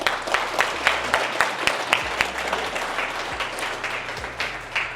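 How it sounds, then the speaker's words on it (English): A crowd at a youth mentorship program graduation claps to welcome a coach to the front, a lively continuous round of applause that holds steady throughout. "A round of applause."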